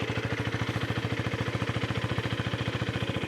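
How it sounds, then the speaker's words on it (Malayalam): A 2024 KTM Duke 250 single-cylinder motorcycle engine idling steadily with an even, rapid thumping pulse, close and continuous with no talking. "ഇതാണ് ഈ ഒരു പുതിയ ഡ്യൂക്ക് 250യുടെ ഐഡ്ലിംഗ് സൗണ്ട്."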